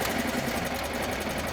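A snow trail grooming machine's engine runs on throttle, a steady close mechanical drone with a fast rattling, sewing-machine-like beat that holds at an even loudness throughout.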